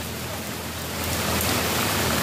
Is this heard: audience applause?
no